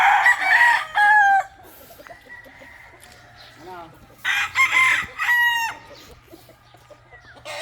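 Roosters crow loudly in repeated bursts on a farm, with softer chicken clucking between calls and faint background noise.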